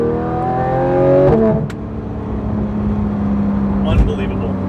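A tuned Porsche 911 GT3 RS engine revs up loud and close, its pitch climbing through gears before easing to a steady drone, with a brief sharp click midway.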